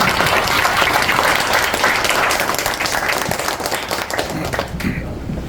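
A large audience at a cultural arts meeting applauds steadily and densely, the clapping loud and sustained before fading slightly at the end.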